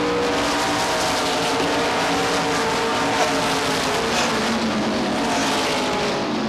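Stock cars race around the oval at Beech Ridge Motor Speedway, a steady loud roar of several engines blending together with a brief tire squeal, dense and continuous throughout with no voices.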